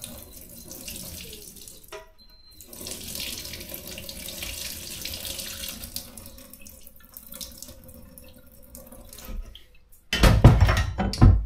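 Whey poured off from homemade Epoisses cheese curds: a steady trickle and splash of liquid with soft clinks, ending in a louder, fuller pour near the end.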